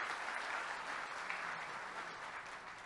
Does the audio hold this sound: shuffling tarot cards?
no